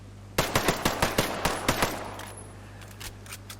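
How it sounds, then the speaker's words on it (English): Rapid bursts of P320 pistol fire from the video game Ghost Recon Breakpoint, about nine sharp shots in quick succession followed by fading echoes and a quiet tail. "we're going to try and get those 9 rounds onto the target as quickly as we can"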